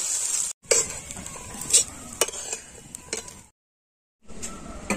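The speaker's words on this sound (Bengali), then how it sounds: "আর বাকি যে ভাত আছে সে ভাত কটা আমি ভেজে নেবো" Leftover rice fries in a pan, with a hissing sizzle and scraping, clinking stirs against the metal, then a short silent gap before the sizzling resumes.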